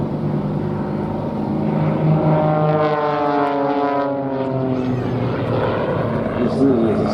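A pair of Sukhoi Su-26 and Su-29 aerobatic aircraft fly a formation display at a Duxford air show, their propeller engines rising and falling in a sweeping drone as they pass, with commentary heard over them.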